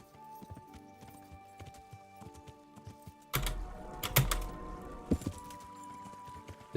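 Horse hooves clip-clop in Kingdom Come: Deliverance, faint rhythmic steps over quiet game music, then a louder burst of hoof thuds and clatter midway, with sharp irregular knocks continuing to the end.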